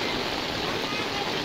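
Floodwater from heavy rain in Dhangadhi, Nepal, rushing steadily over a submerged road, a continuous broadband wash of flowing water with no pauses, fairly close and even in level throughout.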